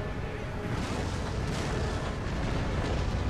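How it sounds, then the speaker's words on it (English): Heavy artillery barrage from massed cannons in an Empire: Total War siege battle at Moscow, a dense, continuous roar of overlapping booms and rumbling blasts with no pauses, loud and sustained throughout. "Redirect my artillery fire onto this unit."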